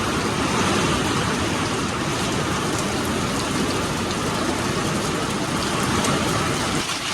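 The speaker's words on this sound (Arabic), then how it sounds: "مطر كلش قوي. واو ما شاء الله ما شاء الله. عاصفة كلش قوية." Heavy rain and a storm pour down outdoors, a loud, dense, unbroken hiss of drops on surfaces that holds steady throughout.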